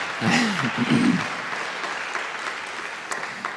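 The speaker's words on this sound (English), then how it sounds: "your applause means a lot" Audience applause at a monthly program event follows a remark about election security, a broad burst that swells early and then thins into a lingering patter, with a voice speaking over the start.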